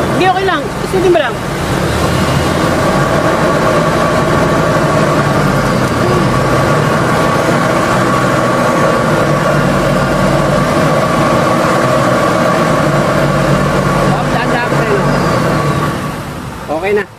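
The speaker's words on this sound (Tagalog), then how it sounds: "Matindi yung ugong ng wheel bearing" A Mitsubishi Mirage G4 with a worn wheel bearing gives off a steady humming drone while the wheel spins, loud and continuous, with a mechanical tonal hum under occasional voices that fades out at the end.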